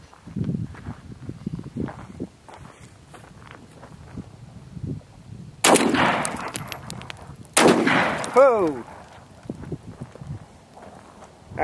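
Two loud shotgun blasts from a Gold Horse shotgun loaded with double-aught buckshot, fired a couple of seconds apart outdoors, each with a sharp crack and ringing tail, amid quieter handling noise and footsteps.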